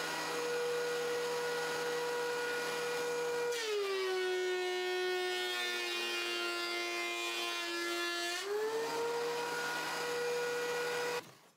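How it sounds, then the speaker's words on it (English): Wood planer running a glued-up pallet-hardwood stool top through: a loud steady motor whine drops in pitch as the board feeds through the cutter for several seconds, then rises back to idle before cutting off. "While at the planer, with the stool top dry, I ran that too, both sides, until you can't see the glue up lines."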